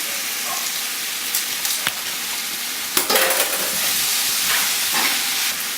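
Pappardelle being tossed and stirred through tomato pomodoro sauce in a pan, a steady loud sizzle and hiss with scraping stir strokes throughout, no talking.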